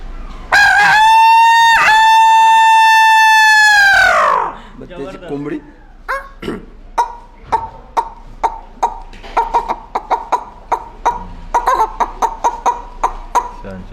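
A voice gives a loud, drawn-out imitation of a rooster crowing, followed by a quick series of clucking or clicking sounds.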